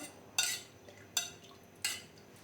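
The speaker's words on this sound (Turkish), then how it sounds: "Şöyle karıştırıyorum bunu." Milk mixture being stirred in a bowl for iliçli sini börek, three quick scraping clinks of a utensil against the dish, close and fairly quiet, with no talking.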